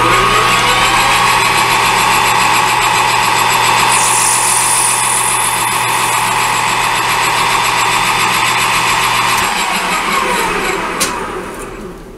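A lathe turning down a plastic children's paint cup by about 20 thou, a loud, steady, close machine whine with a motor hum that winds down near the end.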